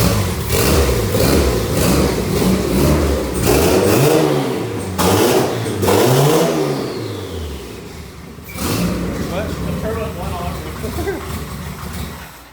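A turbocharged Honda Civic engine revs repeatedly in rising and falling surges, loud and close, with voices talking over the noise.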